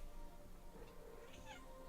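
A house cat lets out a faint, brief meow over a steady low background hum.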